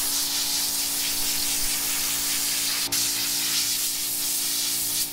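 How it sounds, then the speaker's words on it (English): Compressed air gun blasting out a part from a Toro Super Recycler lawn mower carburetor, giving a steady loud hiss that runs continuously, with one brief break near the middle. "take my air gun and blow this thing out for the meantime"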